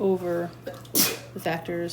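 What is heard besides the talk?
sneeze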